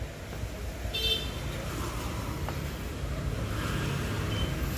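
A Mitsubishi Xpander keyless alarm gives one short siren chirp on locking, a brief, moderately loud electronic beep outdoors. Steady traffic or road noise continues around it.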